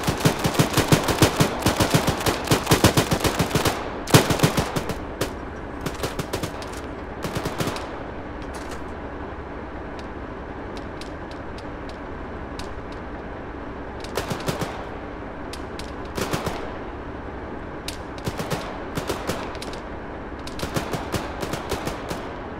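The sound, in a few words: machine gun fire in the video game Arma 3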